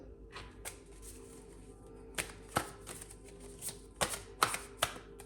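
Tarot cards set down one at a time on a table, producing soft, sparse taps and brief shuffling slaps, with several sharper placements near the end and a quiet room between them.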